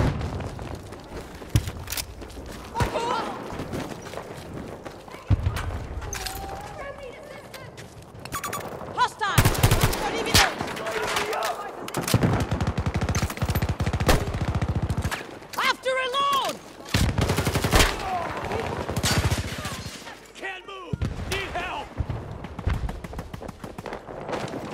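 Gunfire in a multiplayer shooter video game, loud shotgun blasts and rapid submachine gun bursts coming in irregular clusters, with an excited voice talking throughout.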